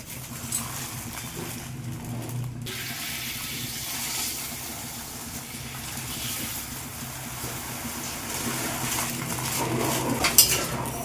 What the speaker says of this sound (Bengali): আমি এই বাটি বাটিটার মাপে জল দিয়ে দিচ্ছি